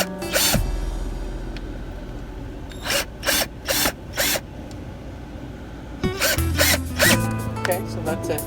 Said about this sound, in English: So I'm putting the last screw in.